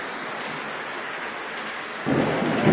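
Steady heavy rain hisses throughout, with a low rumble of thunder swelling in near the end.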